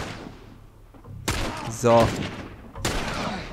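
Sniper rifle shots in The Last of Us crack out as two loud, sharp reports about a second and a half apart, each trailing into a brief echo, with a short spoken word between them.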